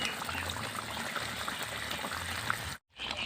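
A Bengali kucho fish curry bubbles and simmers in a pan as water is added, giving a soft, steady liquid gurgle at low volume before a sudden brief cut to silence.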